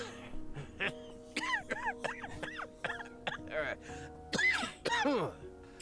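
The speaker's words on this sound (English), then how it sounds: "a bone-chilling laugh resounds, followed by a feeble coughing fit" A series of weak, rasping coughs and throat clearing in uneven bursts, close up and fairly quiet, from the video game Love & Deepspace.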